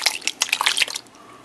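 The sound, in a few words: canned diced tomatoes with green peppers and onions poured into pot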